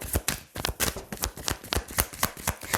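Tarot cards are handled and laid over one another, a close series of crisp papery slaps and shuffling flicks in an uneven rhythm of about a dozen strokes, with no voice over them.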